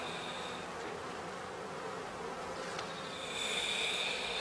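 Honey bees at a straw skep hive make a dense, continuous buzz that holds steady throughout and swells slightly louder near the end, close and alone.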